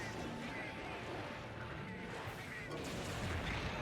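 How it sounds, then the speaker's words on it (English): A bomb bursting against a monster in Monster Hunter Generations Ultimate, a dense rumbling blast within a continuous wash of game noise, fairly faint overall with a brief crash near the end. "I'm gonna throw another bomb at him."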